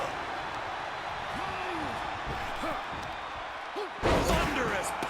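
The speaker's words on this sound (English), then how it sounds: "Thunderous power slam." Heavy wrestler power slam crashing into the ring in the WWE 2K26 wrestling video game, a loud thudding impact near the end amid arena crowd noise and commentary-style talk.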